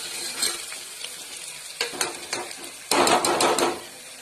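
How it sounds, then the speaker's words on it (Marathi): Chana dal being sautéed and stirred in a pan with turmeric, giving a soft sizzle with scraping stirs and a louder burst of frying and utensil clatter near the end. "आणि डाळ चांगली परतवून घ्यायची"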